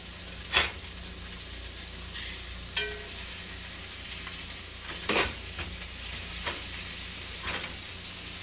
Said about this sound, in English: Sizzling, it's sizzling.